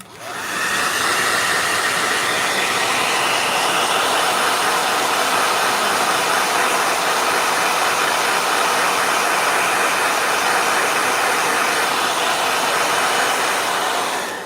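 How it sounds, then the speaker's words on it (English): A handheld blow dryer runs steadily and loudly for the whole stretch, drying gouache paint with a constant airy whoosh and motor hum; no one speaks. "All right, blow dryer."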